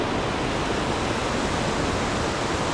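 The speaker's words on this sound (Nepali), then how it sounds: "पानी चाहिँ बाक्लै आए" Heavy rain pours down steadily at a forest campsite, a dense, loud, unbroken hiss with no pauses or other sounds standing out.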